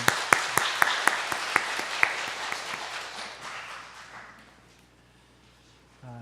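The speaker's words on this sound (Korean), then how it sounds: "우리 김용광 장로님 건강을 위해서 한 번 더 우리 격려의 박수 부탁합니다" A church congregation applauds in encouragement during a Sunday service, with sharp early claps over a steady wash that fades away over several seconds.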